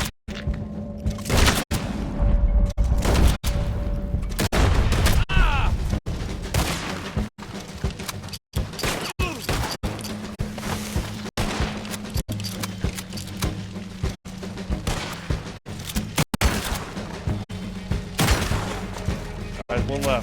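Gunfire in a video game: sharp shots and booms burst out repeatedly at an irregular pace, some in quick clusters, loud and close, mixed with other game sounds.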